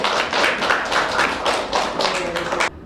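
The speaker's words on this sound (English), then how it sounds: "So I think give them a nice round of applause." Short burst of enthusiastic clapping from a crowd at a wartime-themed fashion show, several seconds of dense applause in pulsing waves that cuts off abruptly.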